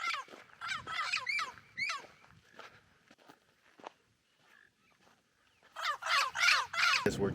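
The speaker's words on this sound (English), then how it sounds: "These are 2 parakeets flying across the sky." Harsh, rapid squawking calls from parakeets flying overhead in Brazil burst out, fade to near silence with a few scuffs, then return loudly.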